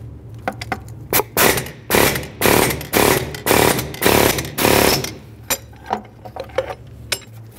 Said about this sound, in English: I have an air hammer, so I'm going to use that.